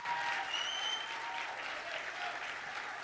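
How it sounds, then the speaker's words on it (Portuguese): A church congregation claps loudly and continuously at a tenth-anniversary celebration, dense applause with a few faint cries or whistles mixed in. "aplauda Ele o mais alto que você puder"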